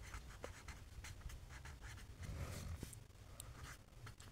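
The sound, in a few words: writing on paper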